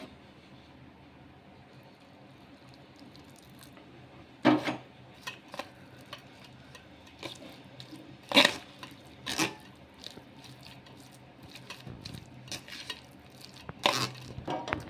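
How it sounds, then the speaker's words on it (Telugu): Semolina and milk batter for rumali paratha being stirred in a bowl, with irregular scraping and clinking knocks of utensil against the bowl, some louder strikes standing out over a quiet kitchen backdrop. "ఈ విధంగా చేతితో కలపకుండా ఈ విధంగా కలిపేసుకోవాలి అంతాను."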